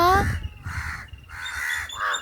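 A crow caws loudly and close by in several harsh, drawn-out calls that follow one another with short gaps, and a person's voice is mixed in.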